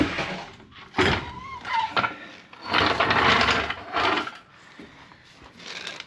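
Scissor-style car jack being lowered beneath a 1968 Mustang during rear suspension work, a close series of scraping, ratcheting mechanical bursts with brief pauses between them.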